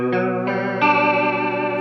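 Electric guitar played through a TC Electronic Flashback Delay set to a Chorus Vibe TonePrint, a uni-vibe-like swirl without phasing, as sustained chords change three times, the wet shimmering tone steady and up close with no talk.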